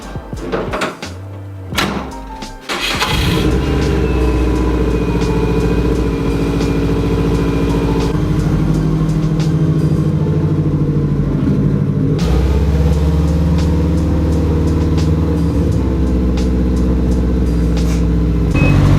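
A Subaru STI engine idles and then revs steadily while the car is turned around, a continuous low rumble running loud and close for most of the stretch, with a brief door-like clunk near the start.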